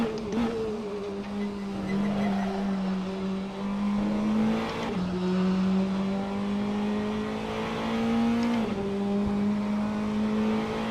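Race car in a racing video game cornering flat out on soft tires, its engine droning loudly with rising pitch through each gear and sharp shifts roughly every four seconds.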